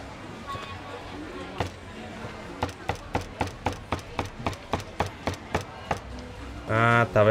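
Knife chopping food into small pieces at a Thai street food stall, about a dozen steady, evenly spaced thuds on a board, with a voice speaking before and after.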